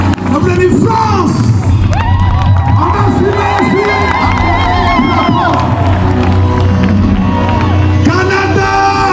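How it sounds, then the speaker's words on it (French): A large crowd at a religious gathering in Bujumbura cheers and shouts loudly and continuously, with overlapping voices, whoops and yells forming a dense roar. "Beaucoup d'acclamations."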